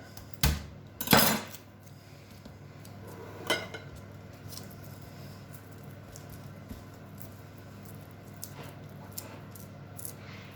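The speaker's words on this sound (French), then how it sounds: "Donc on va hacher l'ail." A knife chops garlic on a board in a home kitchen while a sauce is being made: a few sharp taps near the start, then sparse, quieter knocks.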